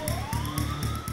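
A police car siren in the Thief Simulator video game wails in rapid, regular pulses, loud and steady throughout the short stretch.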